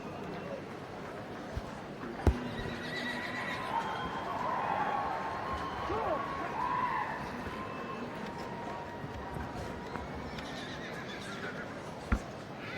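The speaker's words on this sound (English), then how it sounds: "In the background are the Section A mares and foals." Horses whinny and neigh from mares and foals in a show ring at an agricultural show, a mid-distance call rising over steady crowd murmur and faint talk, with a few sharp knocks.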